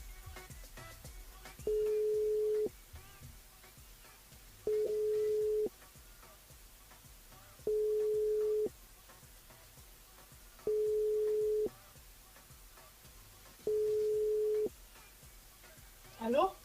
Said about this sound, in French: On va appeler Catherine. C'est le standard.